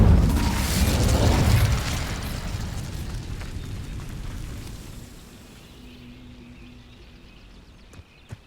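Incendio fire spell in Hogwarts Legacy, a loud roaring burst that dies away over about five seconds into a quieter rumble, ending with a faint sharp crack.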